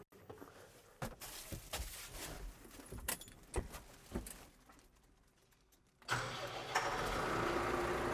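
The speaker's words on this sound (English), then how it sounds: "we're going to start the vehicle, start the machine" Keys jingle and clatter for several seconds, then a vehicle engine cranks and catches, settling into a steady close idle.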